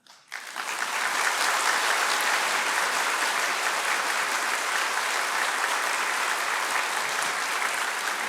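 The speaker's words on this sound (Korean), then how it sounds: "나오실 때 큰 박수로 환영해 주시면 감사하겠습니다" Sustained applause from an audience welcoming a speaker, rising quickly and holding steady and loud throughout.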